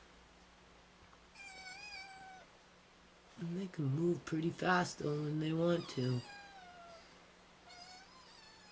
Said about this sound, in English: leave that whiny cat alone